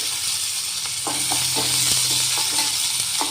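Chopped green chillies fry in hot oil in a pan for a radish kosambari tempering, a constant loud sizzle close up with a few light stirring knocks scattered through it.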